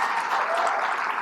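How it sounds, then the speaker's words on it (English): Audience applause for an honoree at an awards ceremony for themed attractions, a dense, even, loud wash of many hands clapping continuously through the short stretch, with no voices on top. "Another round of applause for Tom."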